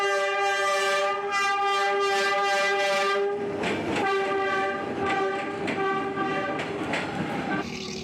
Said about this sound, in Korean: 하노이역을 출발한 기차가 바로 내 눈앞을 지나간다